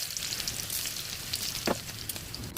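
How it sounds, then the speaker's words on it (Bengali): Dried red chillies dry-roasting in an unoiled pan for a rohu fish mash, giving a steady close-up crackling sizzle with a few sharper pops and no voices. "শুকনো কড়াইতে শুকনো মরিচ ভেজে নিচ্ছি।"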